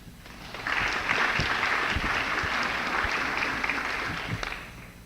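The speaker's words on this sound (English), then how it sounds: "can we get another round of applause for all the families here tonight?" Audience applause for families at an evening student presentation, a steady burst of clapping from a crowd in a hall that swells quickly and holds for several seconds.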